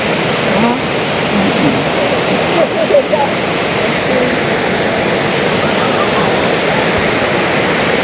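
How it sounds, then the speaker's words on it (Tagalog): Waterfall in Taiwan roaring steadily from an observation deck, a loud broad wash of falling water that stays constant throughout, with faint voices mixed in briefly. "Ayan yung ayun yung waterfalls."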